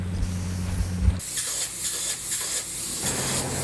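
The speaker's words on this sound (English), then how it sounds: "here we're able to spray in a good thickness of foam" Spray foam insulation is sprayed into a house with a steady, close hiss and a few pulsing bursts, continuous and fairly loud, no voices.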